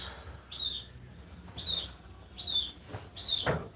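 A pet bird calls from another room, several sharp high chirps in a row, each about a second apart, faint and slightly distant, with no talk over them.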